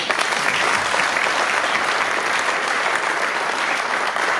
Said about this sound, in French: Je lui demande d'applaudir.